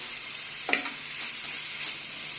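Onions and capsicum sautéing in a pan, a soft even sizzle with one short scraping sweep of a spatula early on, fairly quiet and without talk.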